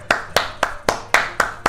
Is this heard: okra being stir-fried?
no